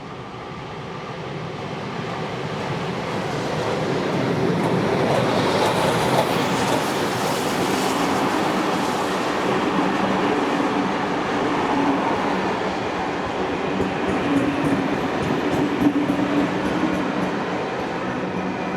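Locomotive 3642 passes on a New South Wales rail line, a loud and sustained rumbling roar that swells and stays broad and steady for the whole stretch, with no voices.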